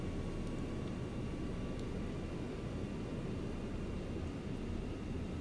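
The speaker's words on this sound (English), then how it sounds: "Why are airplanes making noise?" A steady, loud airplane engine drone fills an AirportSim pre-alpha airport ground-handling game, a constant broadband roar with a faint tonal whine that holds evenly throughout without pauses.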